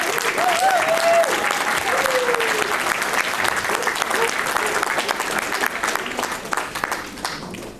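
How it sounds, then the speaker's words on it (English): Sustained applause from an audience at a patron award speech honours fundraising organisers, a steady dense wash of clapping with a few whoops and cheering voices over it, slowly fading near the end. "So I would please like you all to give a round of applause to them."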